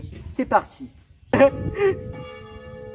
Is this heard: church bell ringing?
yes